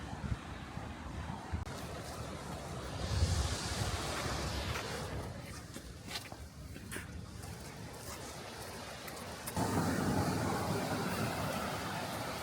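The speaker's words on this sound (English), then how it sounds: "Those are some strong waves." Strong ocean waves surge against the Maui coast, a broad roar of surf and wind buffeting the microphone, swelling louder near the end.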